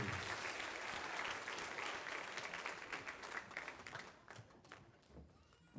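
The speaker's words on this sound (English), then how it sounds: "One big round of applause for our junior class." An audience at a spring school band concert applauds the junior class, a full burst of clapping that runs strong for several seconds, then thins and fades toward a few scattered claps at the end.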